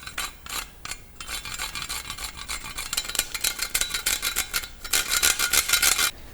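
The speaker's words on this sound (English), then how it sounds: "we are going to grate some fresh nutmeg on top and fresh cinnamon" Fresh nutmeg and cinnamon being grated over a pumpkin spice latte, a close rasping scrape in quick repeated strokes that speeds up into a dense burst toward the end.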